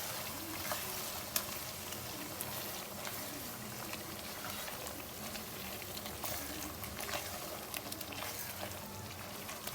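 Chicken Peshawari handi with a spoonful of cream simmering in a pot on a very low flame, a soft continuous bubbling sizzle with faint crackles, quiet and steady with no talk.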